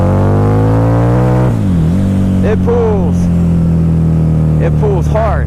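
A Harley-Davidson motorcycle engine accelerating hard, loud and close. The engine drone is steady and rises in pitch, drops for a moment, then keeps pulling. Someone talks over it throughout.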